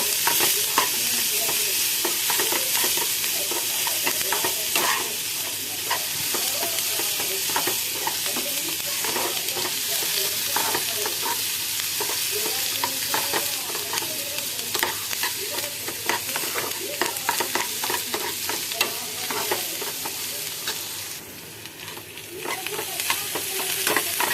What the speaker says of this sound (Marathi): कांदा थोडा तांबूस रंगावर भाजून घ्यायचा.